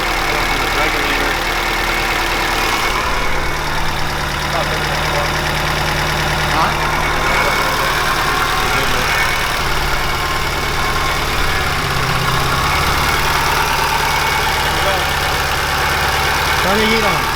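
An 800+ hp Blobeye Subaru STi engine idles at its first startup, a loud, steady, continuous rumble with a slightly uneven beat, and voices talk over it.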